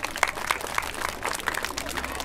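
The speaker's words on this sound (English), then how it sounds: "y'all give y'all parents and yourself a round of applause for being here today" At a youth football camp, parents and kids applaud together, a steady wash of many claps held at moderate loudness throughout.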